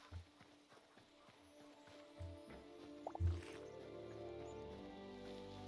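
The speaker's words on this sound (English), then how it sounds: "Oh, there's a horses in there." Faint clip-clop and soft horse noises from horses in a cave-exploration video game sit under quiet ambient drips and squelches.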